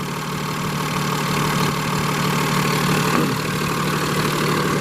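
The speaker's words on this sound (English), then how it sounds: "This is an ISL Cummins engine, 300 horsepower max." A 300-horsepower Cummins ISL diesel engine with 112,000 miles idles in a 2016 Freightliner M2 flatbed truck, a steady low rumble with a faint knocking rhythm, running loud and unbroken.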